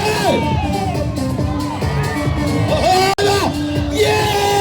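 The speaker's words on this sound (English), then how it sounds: "Yell, scream, give your mum and dad a headache." A crowd of children at a monster truck show cheers, yells and screams loudly and close by, in excited overlapping bursts, broken by one sharp bang.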